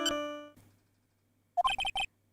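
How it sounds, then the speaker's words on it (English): A phone ringtone goes off during a game session: a sustained melodic tone fades out first, then a quick run of four bright, chirpy notes plays close and clear with no talking. "What kind of ringtone is that?"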